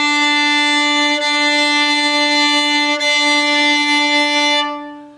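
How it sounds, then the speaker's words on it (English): A fiddle bows two strings together in one long sustained double stop, rich and steady, then it fades out near the end. "You can even try playing the two strings at once."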